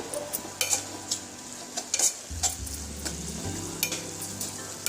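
Stirring a pot of Telangana Bonalu festival rice as it cooks, with a soft sizzle and close, irregular scraping and clinking of the spoon against the pot, alone without talk.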